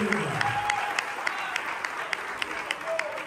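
A church congregation claps along in steady rhythmic applause, loud and close, while a preacher speaks over it in Spanish.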